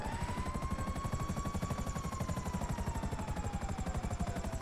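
A helicopter in Grand Theft Auto drones with a steady, fast rotor chop and a sustained whining engine tone, loud and close throughout with no talking.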